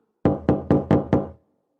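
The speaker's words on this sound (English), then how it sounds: "Suddenly there is a knock at the door." Five firm, evenly spaced knocks strike a door in quick succession, loud and close, then stop into silence.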